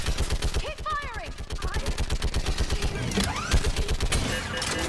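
Rapid automatic gunfire rattles continuously in the video game Mass Effect 3, loud and dense, with voices and electronic effects mixed in over the shooting.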